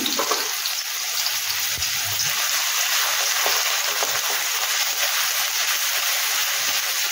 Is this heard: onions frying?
yes